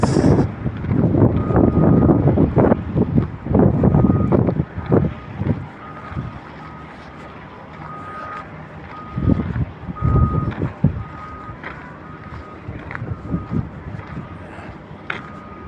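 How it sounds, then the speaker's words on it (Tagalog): Dump truck reversing in a construction-site parking area, its backup alarm giving steady, evenly spaced beeps across the whole stretch, heard over heavy wind buffeting and low engine rumble that swells and eases. "Parating na rin yung ibang mga dump truck."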